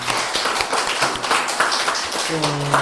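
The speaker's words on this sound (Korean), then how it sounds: "우리 박수 한번 보내줍시다" A church congregation at a Sunday service claps for the church's taekwondo team, a short spell of scattered hand claps of moderate loudness mixed with voices talking nearby.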